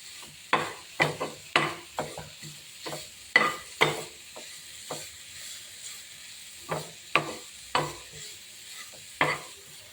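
Dosa frying in a pan, with a steady soft sizzle under repeated scraping and tapping strokes of a spatula, close and fairly quiet.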